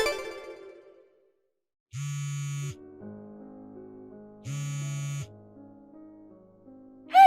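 A phone rings twice in an otherwise quiet room, each electronic trill lasting under a second with a clean buzzing tone, a soft tonal melody running faintly between rings.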